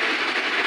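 A train runs steadily along the rails near a forest stop, a dense, continuous rumble and rattle that stays loud and even throughout the short moment, with no voices.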